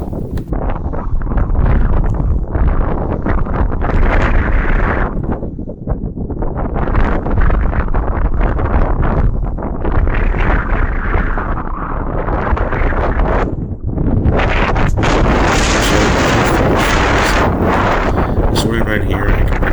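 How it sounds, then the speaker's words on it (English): Strong outdoor wind buffets the microphone in heavy, continuous roaring gusts that swell and ease throughout, loud and close, with rustling on top. "the wind was swirling all around"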